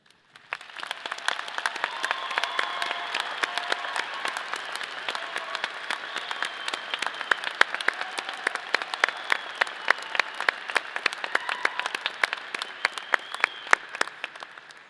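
A university graduation audience at Colorado State University's College of Agricultural Science claps for first-generation graduates, crisp sustained applause from a sizable crowd that swells in and carries on steadily for many seconds.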